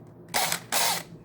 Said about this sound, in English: I drill it through there with a unibit